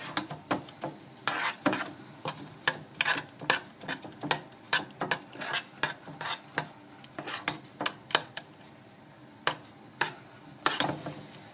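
Instant porridge cooking in a pot while a spoon stirs it, giving a run of sharp scraping and clinking strokes in an uneven rhythm over a faint simmer, close by with no talking.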